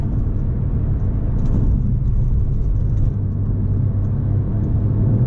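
Porsche 997 Turbo engine held at full throttle, a loud, steady low roar that barely changes across the whole stretch, with no voices over it.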